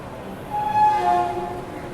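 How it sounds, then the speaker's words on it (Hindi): Pragati Express pulling out of Lonavala station in heavy rain, its horn sounding one steady, fairly loud tone of under a second that dips slightly in pitch near the end, over a low rumbling background. "लोनावाड़ा रेलवे स्टेशन से अपनी ट्रेन लगभग 20 मिनट के विलंब के साथ यहाँ पे निकल चुकी है।"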